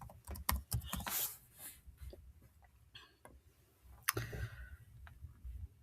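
Quiet computer keyboard typing, a close, irregular patter of soft key clicks with short pauses between bursts.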